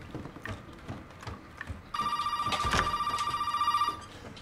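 A telephone rings inside the video game Resident Evil 7, a bright electronic trill pulsing rapidly for about two seconds over quiet ambient footsteps and room noise.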